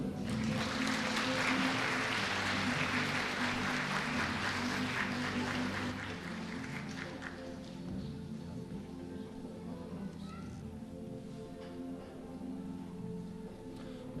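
At a kindergarten's Mehmet Akif Ersoy commemoration evening, the audience claps loudly for speaker Seyfettin Bulut, a strong round of applause that thins and dies down after about six seconds into quieter room sound with a steady hum.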